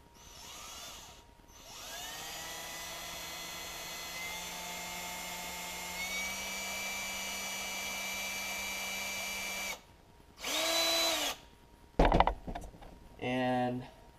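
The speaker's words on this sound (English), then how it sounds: "And then you just find the center of your bait and then just drill a hole in." Power drill boring a hole into a wooden topwater fishing lure: a long, steady whine rising in pitch runs for several seconds, followed by shorter separate bursts of the drill.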